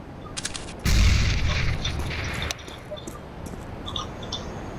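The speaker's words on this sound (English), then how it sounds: "Grenade out." A grenade detonates in Counter-Strike on the Dust2 map as a loud, close boom that rolls on for about a second and a half, then fades into quieter game ambience with small clicks.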